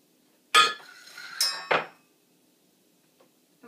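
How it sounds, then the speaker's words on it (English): A spoon clinks against a dish while adding a teaspoon of butter to homemade organic oatmeal: three sharp metallic taps close together, then quiet. "the next thing I'm going to do is put about a teaspoon of butter"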